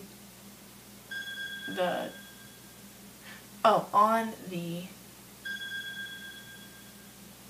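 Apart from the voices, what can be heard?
phone going off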